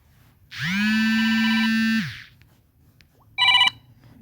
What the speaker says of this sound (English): That's my alarm to remind me, about work.